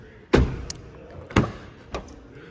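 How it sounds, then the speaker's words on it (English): Rear door of a 2022 Nissan Rogue Platinum opening, heard as three sharp, close mechanical clunks spaced about a second apart, each with a brief thud and quick decay, with no talk. "Door opens up nice and wide in the back here."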